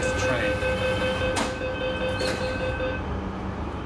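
A Beijing circle line subway train runs through a nearly empty carriage with not more than 20 passengers, giving a steady close rumble with sustained tonal whine and faint rattling throughout.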